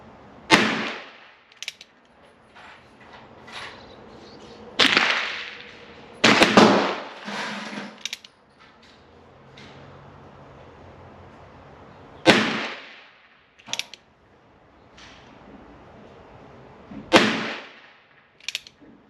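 Gunshots at an outdoor shooting range: several sharp reports fired irregularly over about nineteen seconds, some in quick pairs, with quiet gaps and faint background noise between them.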